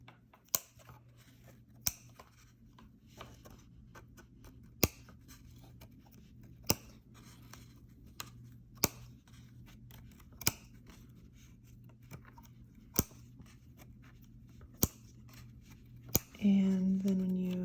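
Scissors snip across weaving warp ends, roughly a dozen sharp, isolated clicks spaced a second or two apart against a quiet hum, with a rustling handling noise at the end.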